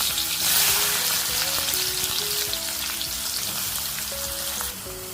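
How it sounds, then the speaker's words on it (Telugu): Green chillies and tomatoes frying in oil in a pan, a steady, close, hissing sizzle with light crackles and faint stirring clinks throughout. "పచ్చిమిరపకాయలు, టమాటాలు వేసేసుకుందాము. చక్క నూనెలోనే చాలా వరకు మగ్గనిచ్చేద్దాము."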